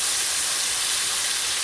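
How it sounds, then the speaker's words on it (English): Meat drops into hot oil in a pan for soft tacos and sizzles, a loud, close, continuous hissing crackle with no pauses and no voices. "Listen to that sizzle."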